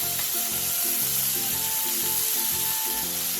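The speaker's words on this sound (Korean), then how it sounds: "팬에 기름을 두르고 썰어 놓았던 감자를 넣어 투명해질 때까지 볶아주세요" Sliced potatoes stir-frying in oil in a pan give a steady bright sizzle, with rhythmic scraping and clatter of stirring running underneath.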